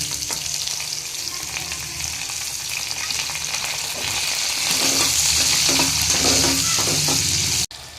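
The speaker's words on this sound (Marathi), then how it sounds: "आता मस्त लालसर होऊ दिला लसूण, नंतर मग कांदा टाकूया." Garlic and then onion frying in oil in a pan for masale bhat, a steady close sizzle with stirring scrapes that grows a little louder midway and cuts off briefly near the end.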